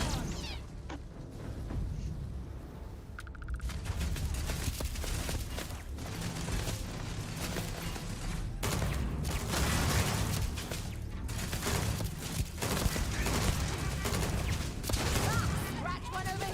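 Turrets firing guns in the space game Starfield, a sustained barrage of rapid gunfire and mechanical clatter, fairly quiet and steady throughout with occasional louder bursts.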